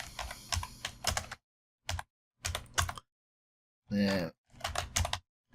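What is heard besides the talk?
typing text on a computer keyboard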